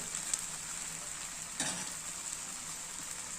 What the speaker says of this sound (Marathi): मोठ्या गॅसवरच डोसा आपण शिजण्याकरता ठेवलेला आहे